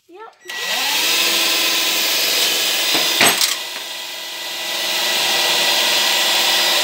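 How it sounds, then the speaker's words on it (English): Power drill boring a hole through wood while working on a Gauge 0 garden railway, a steady loud whirring drone running almost continuously with a brief clatter partway through, with faint speech at moments. "You reckon you can drill another hole through there?"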